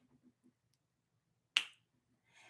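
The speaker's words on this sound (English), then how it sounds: "So snap your fingers with me." A single sharp finger snap rings out clearly on its own, preceded by a few faint soft sounds and followed by a brief light rustle.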